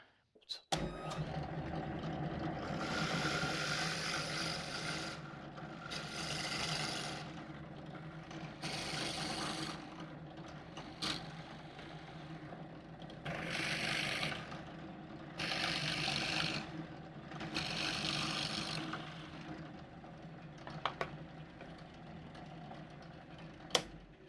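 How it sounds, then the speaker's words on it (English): Several bursts of a power drill boring holes into a wooden fence, each lasting a second or two, separated by brief pauses, over a steady background hum. "We need to drill some holes in our fence to where we can put our bolts in it."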